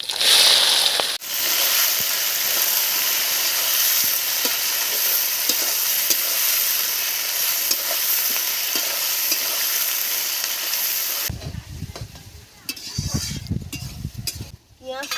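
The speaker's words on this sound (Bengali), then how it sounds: "পেঁয়াজটা ভাজা হোক" Onions frying in hot oil with dried red chillies and whole garam masala for a chicken and capsicum dish, a loud, dense, steady sizzle that cuts off abruptly near the end, leaving quieter rustling handling sounds.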